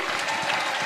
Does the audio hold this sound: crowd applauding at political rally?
yes